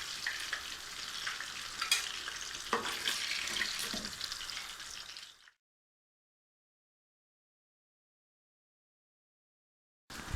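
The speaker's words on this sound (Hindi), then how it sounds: "अब इसी तरह से हमने तमाम मछली को फ्राई कर लेना है" Fish sizzles in hot oil in a pan while being fried for a fish curry masala, a steady crackling fry for about five seconds that then cuts abruptly to silence.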